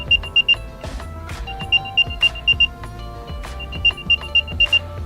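Series of short, high electronic chirps from an Apple AirTag tracker, sounding in bursts of several rapid beeps with pauses between, fairly close over a low background hum.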